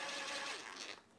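Screws driven through a spacer into a PCB during a 737 clock and chronometer build give a brief, steady grinding whir close up that cuts off abruptly.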